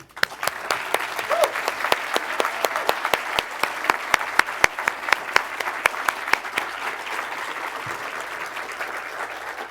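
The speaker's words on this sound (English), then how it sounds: "give a big and final round of applause to all of our distinguished guests and speakers" An awards ceremony crowd applauds, with individual sharp claps standing out over a steady wash of clapping that rises quickly and stays strong.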